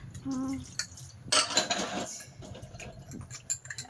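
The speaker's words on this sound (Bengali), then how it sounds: "এই যে থালা বাসনগুলো এখন ধুয়ে রাখি" Plates, dishes and bowls being washed by hand in a home kitchen, with a few bright clinks and clatters of crockery, then a burst of running, splashing water and softer knocks of dishes set down.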